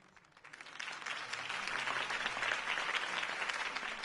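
Applause from a crowd swells quickly and holds as a steady, dense wash of clapping that stays fairly distant and soft throughout.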